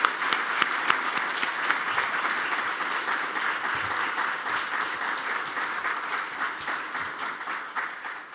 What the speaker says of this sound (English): So let's pause and give him a round of applause